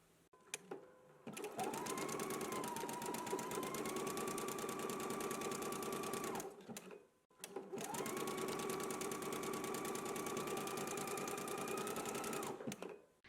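A sewing machine runs a zigzag stitch along a hem in two long, steady bursts of rapid mechanical chatter, separated by a brief pause, loud and close.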